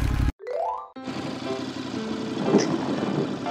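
A steady Ducati motorcycle engine rumbles at idle after a couple of brief opening sounds, continuous and fairly close throughout.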